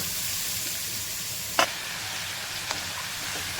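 Grated carrots sauté in ghee for carrot halwa, one kilo of them over high heat, giving a steady close sizzle with a sharp utensil knock and a softer scrape as they are stirred.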